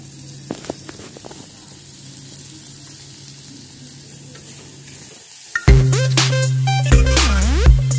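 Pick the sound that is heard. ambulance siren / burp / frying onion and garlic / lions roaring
frying onion and garlic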